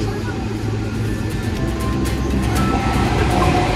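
The Haldibari Intercity Express, running from Kolkata to New Jalpaiguri, gives a steady, loud rumble and rattle heard from inside the moving train throughout.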